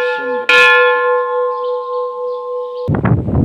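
A bright notification bell dings once near the start with a sustained ringing tone that slowly decays, followed by a short burst of other noise at the end.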